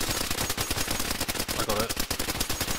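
Rapid bursts of gunfire in DayZ, played on a PvE server, crackling loud and continuous across the whole stretch with dense overlapping shots, a voice briefly audible underneath.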